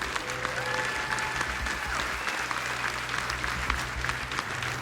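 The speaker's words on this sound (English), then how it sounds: "Let's have a round of applause for that." An audience claps in steady, sustained applause at a Magic: The Gathering Hobbit debut event, the sound filling the room evenly for several seconds.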